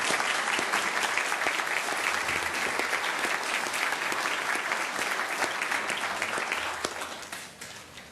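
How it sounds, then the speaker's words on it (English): An audience at a West Covina city council meeting claps steadily and loudly in a dense wash that holds for several seconds before it thins and fades at the end. "Let's give a round of applause for her dedication."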